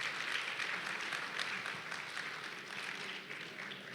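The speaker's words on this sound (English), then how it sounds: "Women, clap for yourselves." Faint, continuous clapping from women in the audience at an entrepreneurial skill acquisition event, a steady distant patter of many hands lasting several seconds.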